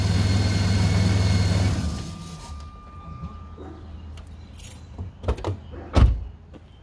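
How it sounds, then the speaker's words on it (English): A car engine idling steadily is switched off and cuts out abruptly, leaving a quiet interior followed by a few sharp clicks and knocks, like keys and a door. "Let's turn this engine off."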